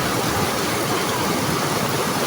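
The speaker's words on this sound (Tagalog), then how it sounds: "Lakas ang ulan oh!" Heavy evening rain falls in a dense, even hiss, loud and continuous with no voices or breaks.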